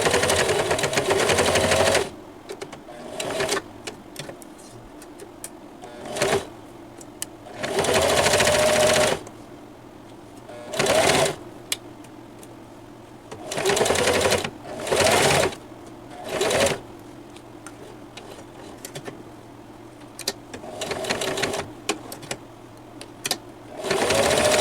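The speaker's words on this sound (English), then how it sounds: "Okay, so the sewing machine will do it." Sewing machine stitching fabric for a purse strap, running in repeated motorized bursts of varying length separated by short pauses, loud and close, with no talking.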